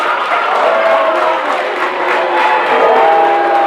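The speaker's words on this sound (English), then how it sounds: "And the North Daviess crowd decides to use their voices here." The North Daviess crowd at a boys varsity high school basketball game roars in a gym, a sustained loud wall of cheering, whoops and shouted voices.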